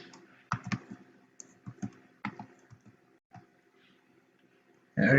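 Keys on a computer keyboard clatter in short irregular bursts, close and fairly quiet, with pauses between clusters of presses and a brief louder noise at the very end.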